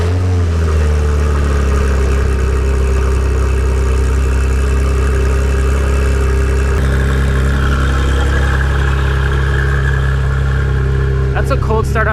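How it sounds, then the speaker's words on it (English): Porsche GT3 on its stock OEM exhaust firing up from cold, a loud, steady deep engine drone that holds high idle throughout, with a slight shift in tone partway and a brief rattle near the end. "That's a cold start on the OEM exhaust."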